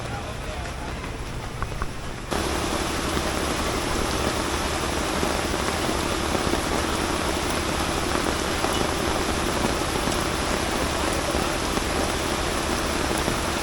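Heavy rain pours down during flooding in a dense, continuous roar that suddenly grows louder after a quiet opening moment, steady and close throughout.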